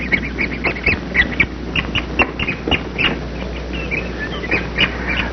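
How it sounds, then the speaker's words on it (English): Spotted woodpecker chicks quarrelling inside the nest, giving a busy run of sharp, repeated squeaky calls at close range over a steady low background hum, with no voices. "As is the custom in a spotted woodpecker nursery, they quarrel with one another."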